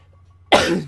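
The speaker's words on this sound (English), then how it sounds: "Now that I talk about coughing, I felt the need to cough." A single close, harsh cough bursts out after a moment of near silence, loud and breathy, trailing off with a rough rasp.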